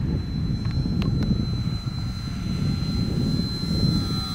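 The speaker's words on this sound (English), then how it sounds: "I will try to fly with the takeoff flaps." A Flite Test Freedom Fox 3S electric RC plane flies with takeoff flaps deployed, its motor a steady buzzing drone, moderately loud and somewhat distant, with wind noise and no talking.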